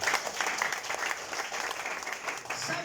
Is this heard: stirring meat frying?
no